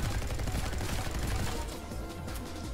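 Rapid gunfire from the gun card in the game Neon White, a dense, continuous crackle of shots lasting the whole moment and holding steady in loudness, with no pauses between bursts.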